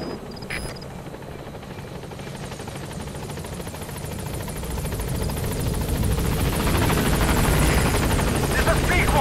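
Pequod helicopter in Metal Gear Solid 5 (video game), a steady rotor thrum and engine whine that swells louder as the craft nears and gains altitude, with a voice speaking over it.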